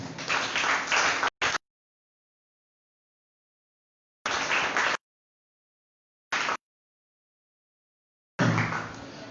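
A church congregation claps and cheers in short loud bursts, cut into separate segments with dead silence between them.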